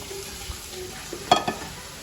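Chopped onion and tomato fry in a pan for egg biryani with a low steady sizzle, broken by a few spoon scrapes and taps against the pan.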